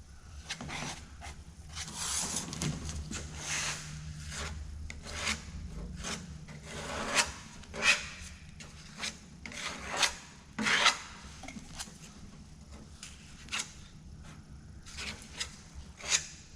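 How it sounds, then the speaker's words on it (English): An 80-grit dual-action sander works over body filler on a 1970 Chevelle, giving a steady rasping scrub that swells and fades with repeated sharp peaks as the pad presses and lifts, close up and with no talking. "Starting with 80 grit on the DA."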